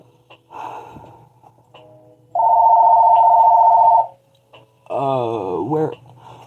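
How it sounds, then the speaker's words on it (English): A steady electronic telephone tone sounds for about two seconds, followed by a warbling ring burst, with faint breathing and small noises between. "are you going to keep ringing? Who is calling today?"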